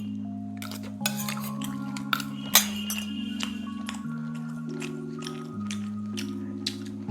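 A spoon clinks and taps against a plate of tender boiled mint-potato chicken in a series of light, scattered knocks, under steady background music.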